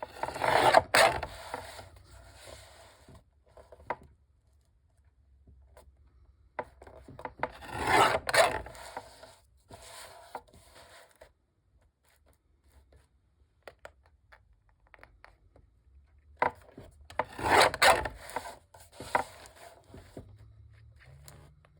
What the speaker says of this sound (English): I apologize for the noise of this trimmer